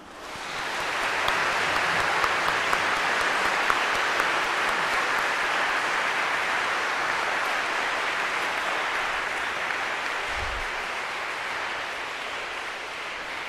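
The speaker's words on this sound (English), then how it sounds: "Please join me in giving a generous applause to all of your loved ones." Graduation ceremony crowd applauding loved ones: steady, full applause from a large audience that swells quickly and holds evenly for over ten seconds, with no talking over it.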